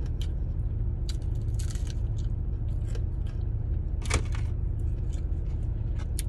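Close, crunchy bites and chewing of fried chicken wings in a few bursts over a steady low hum.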